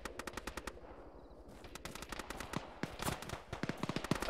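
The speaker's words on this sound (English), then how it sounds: "A bullet just whizzed past my head." Video game gunfire crackles in rapid automatic bursts, loud and continuous, with sharp single shots and a bullet whizzing past, all without talk.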